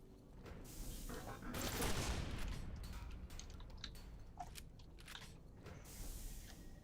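Shotgun blasts in the first-person shooter Quake 4, a few punchy booms scattered across the clip, fairly quiet overall, with crunchy game effects between them.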